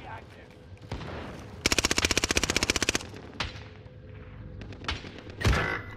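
Gunfire in Call of Duty: a sustained burst of rapid automatic fire lasting over a second, surrounded by scattered single shots and game sounds.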